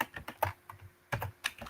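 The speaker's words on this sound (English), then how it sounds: "I'm typing a little too quickly here." Quick, uneven bursts of keystrokes clatter on a computer keyboard, close by, with short pauses between flurries of typing.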